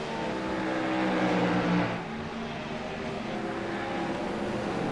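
GT3 race cars at Daytona in a racing video game drone and whine at steady speed, a dense layered engine roar that swells briefly then settles, with no voices.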